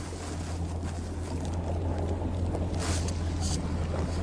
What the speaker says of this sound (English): this wind is blowing hard out here